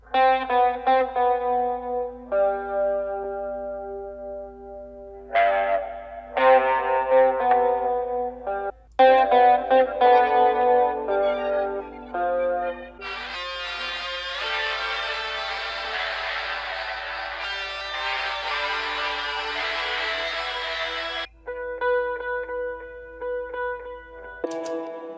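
Electric guitar in FL Studio run through changing effects: clean sustained notes give way to thick, distorted, chorus-heavy tones, played alone and fairly loud.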